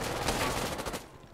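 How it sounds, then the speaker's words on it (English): Close, loud automatic gunfire in the video game Insurgency Sandstorm, a dense rattling burst of shots that tapers off toward the end. "Ooh, I hear gunshots,"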